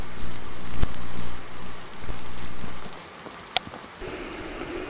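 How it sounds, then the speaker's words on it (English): Rain falling at night near power lines, a steady close patter on surfaces with a few louder drops and knocks, easing slightly toward the end. "And it's raining, so you're gonna get electrocuted"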